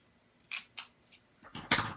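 Paper being cut in half with scissors for a papercraft card, a few short close snips followed by a longer rustling cut, quiet with no talking.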